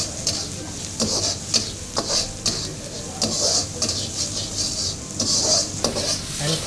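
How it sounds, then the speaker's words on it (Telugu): Onions frying in a pan with ginger garlic paste for a prawn fry, a steady close sizzle broken by frequent metal stirring clinks and scrapes against the pan. "ఉల్లిపాయలు వేగిన తర్వాత అల్లం వెల్లుల్లి పేస్ట్ వేస్తాం."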